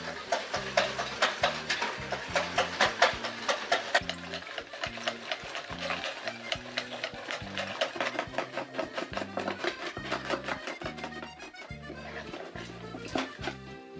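Cream being whipped by hand with a whisk in a bowl for no-churn hokey pokey ice cream, a fast steady run of rhythmic clicking and sloshing strokes, close and continuous, with no talk.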